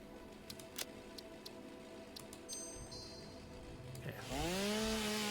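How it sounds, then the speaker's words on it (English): A chainsaw sound effect from the video game Satisfactory: faint ticking at first, then the saw engine revs up loudly with rising and falling whine over the last second or so. "Tone yourself down, little chainsaw."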